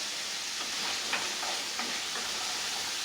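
Food stirred in a hot frying pan sizzles steadily, with a constant hissing spatter and a few soft scrapes of the stirring breaking through.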